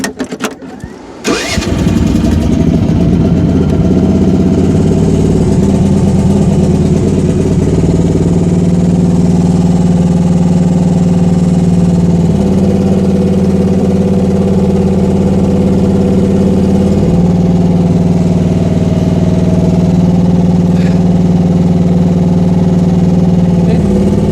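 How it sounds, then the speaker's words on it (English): A new Rippa R10 mini excavator engine starts with a brief cranking burst, then runs at a loud, steady drone while the machine is driven, with slight pitch shifts as it moves, close by. "now we'll go ahead and try driving the machine"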